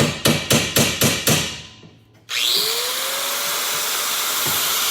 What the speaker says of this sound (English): I still got some grinding to do